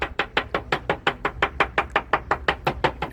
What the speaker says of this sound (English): You can hear him chopping in the background there.